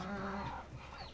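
Turkeys in an indoor pen give soft gobbling and clucking calls, close and fairly quiet, a short burst of warbling notes trailing off.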